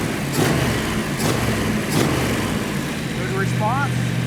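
A steady engine rumble idles low and constant throughout, with a few faint higher chirps near the end.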